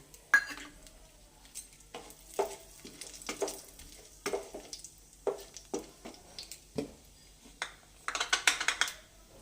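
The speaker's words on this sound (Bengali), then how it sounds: "এবার ওই তেলের মধ্যেই ফোড়ঙে দিয়ে দিচ্ছি দুটো শুকনো লঙ্কা আর কালো জিরে" Dried red chillies and nigella seeds crackle in hot oil that earlier fried katla fish pieces, with a string of short, sharp spits and pops spread across the clip and a denser burst near the end, with no voices.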